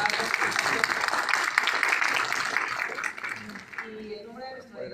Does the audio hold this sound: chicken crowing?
no